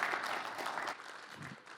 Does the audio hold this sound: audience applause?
yes